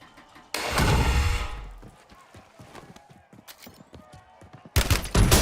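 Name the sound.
gunfire in the video game Call of Duty Warzone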